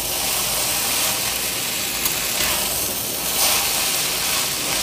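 Veg chow mein noodles fry in a hot pan at home, giving a steady loud sizzle and hiss throughout with no talking over it.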